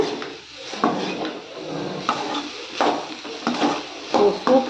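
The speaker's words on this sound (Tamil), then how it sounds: "நல்லா வந்து கடாய் வந்து நல்லா பிடிச்சிட்டு நல்லா கிளறி விடுங்க" Egg and cabbage mixture stirred in a kadai, with repeated scraping and clanking strokes of a spoon against the pan at an uneven rhythm, close by and with no talking.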